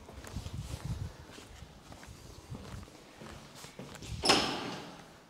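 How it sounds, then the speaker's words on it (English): Footsteps move across a villa's stone entry in Turkey, followed near the end by the clunk and swing of the front door opening, fairly close and without talk. "I'm gonna walk to the side to open the door for my cousin."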